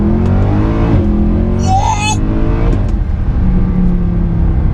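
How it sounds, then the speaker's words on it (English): A 490 bhp Mercedes C63 AMG engine rumbling loudly with a couple of sharp exhaust pops and crackles as it slows, near and continuous. "I'm loving the barks that come out of the rear end as you go down"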